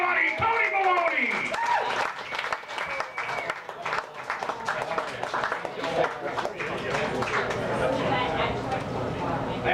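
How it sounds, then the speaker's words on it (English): Audience applause and cheering for comedian Toni Baloni at Stripes in Berwyn, a dense burst of clapping that fills the room, with voices calling out over it. "Hold your applause."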